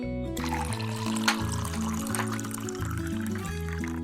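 Water pours steadily into a toy pool, a continuous splashing trickle over a bed of cheerful music.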